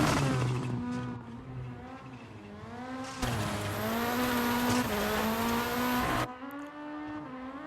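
A rally car in EA WRC on a Rally Finland stage, its engine droning and shifting pitch through gear changes, louder and harsher in the middle stretch under heavy braking, then easing back.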